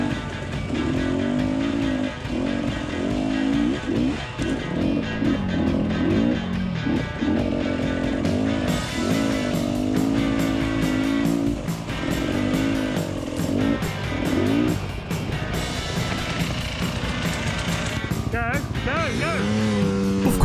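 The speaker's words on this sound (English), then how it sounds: "who incidentally is riding a brand new beta cross trainer" A Beta cross trainer dirt bike rides through Watagan State Forest in Australia, its two-stroke engine loud and close, buzzing and rising and falling as the throttle works, with other trail bikes around and talk layered over it.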